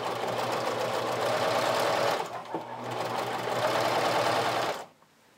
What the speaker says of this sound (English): want to run a second row of stitching about a quarter of an inch above your first row just to secure it in place